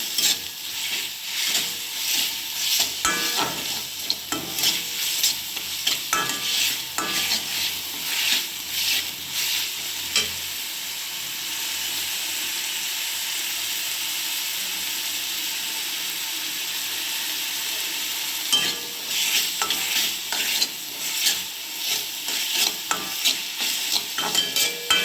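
Onion frying in a pan over a low gas flame with green chilli paste and curry leaves, stirred in bursts of scraping strokes over a continuous sizzle, close and fairly loud, with a steadier stretch of plain sizzling midway.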